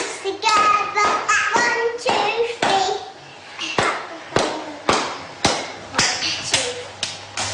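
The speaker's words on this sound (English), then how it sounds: "Clap your hands together" Hands clap together in a loose, uneven rhythm, with about a dozen sharp, close claps separated by short gaps and a voice speaking between them.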